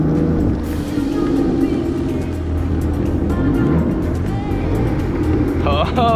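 A jet ski engine fires up and runs with a steady motor drone on the water in Bahrain, then revs higher as it pulls away, with people talking over it throughout.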